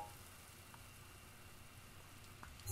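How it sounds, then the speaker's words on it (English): Steady rain falls in the open world of the video game Zelda: Breath of the Wild, a soft continuous hiss with faint scattered drops at low, even loudness throughout. "Oh great, it's raining again."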